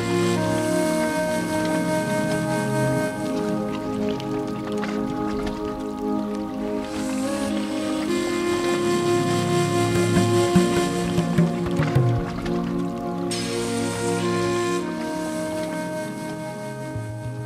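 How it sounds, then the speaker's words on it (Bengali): Busy river port at Sadarghat on the Buriganga in Dhaka, with small country boats ferrying passengers and a steady, dense din of engines, water and crowd noise running throughout at even loudness. "ডিঙ্গি নৌকাগুলোর যাত্রী নিয়ে এপার ওপার ও কুলিদের শোরগোল দিনরাত 24 ঘন্টা লেগেই থাকে।"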